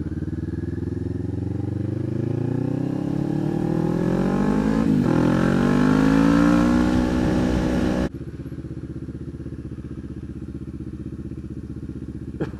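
A motorcycle engine is heard close up while being ridden, its pitch rising steadily through acceleration before dropping to a lower, steady running drone.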